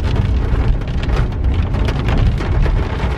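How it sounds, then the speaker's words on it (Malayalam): Heavy rain falls on the road near the tea plantations around Valparai, a loud, dense and steady downpour with a constant hiss and patter and no talking. "ഇപ്പോഴും നല്ല മഴയാണ്."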